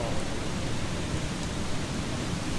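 Steady rain falls in dim darkness during an eclipse in the video game Eastshade, an even, moderately faint hiss of drops with no other sounds.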